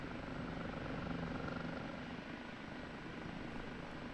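Simulated OH-58D Kiowa Warrior helicopter hovering in the DCS combat flight game, a steady, dense rotor and turbine drone heard continuously and evenly at low level from inside the cockpit.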